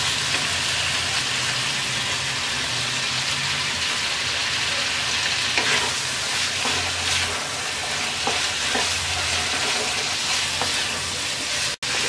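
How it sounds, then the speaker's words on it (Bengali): Turnip frying with sliced green chilies for a snakehead fish curry, giving a continuous sizzle with occasional scrapes of stirring and short clicks from the pan. "শালগমটা কষিয়ে নেওয়া হয়ে গেছে, এবার দিয়ে দিচ্ছি 5-7টা কাঁচামরিচ ফালি।"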